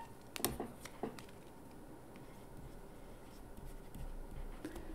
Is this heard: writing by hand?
yes